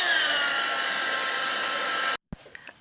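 A hair dryer blows steadily and loudly, drying acrylic paint on a journal cover, then cuts off abruptly, leaving a few faint small handling clicks.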